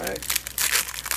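Crinkly plastic wrapper of a Kellogg's Special K strawberry protein meal bar being peeled open, close and fairly loud, in several quick crackling bursts over about a second.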